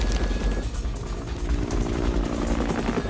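Helicopter rotors in the video game Dead Rising Deluxe Remaster form a steady, loud, dense whirring roar that runs throughout, with several aircraft overlapping and no speech.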